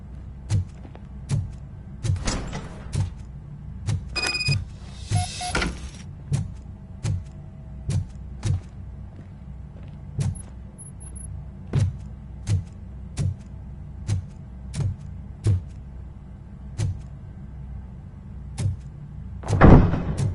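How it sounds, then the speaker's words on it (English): Heavy mechanical thuds repeat steadily about every second in a RoboCop video game as a door is worked open, each a low clunk, with a brief rattling burst near the start and a louder thump at the end. "Now let me get that door open for you"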